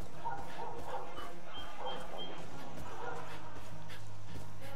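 In the video game Far Cry 5, a dog barks and yips repeatedly in short bursts, moderately loud against steady background game noise.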